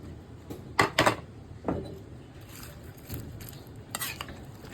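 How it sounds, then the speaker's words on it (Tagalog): Cabbage and mixed vegetables stirred in a pan for pansit canton, a few soft scraping clatters and utensil knocks against the pan over a faint background, no talking. "Haluin natin. Yan na yung gulay natin."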